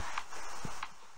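In Minecraft, a horse makes a few light clip-clop hoofbeats, spaced out and fairly close, over a soft steady background.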